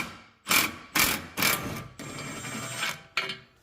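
Ratchet wrench backing out the last subframe bolt on a 2020 Toyota Supra A90, heard as about five quick clicking bursts with brief pauses between them, close and fairly loud, with no talk.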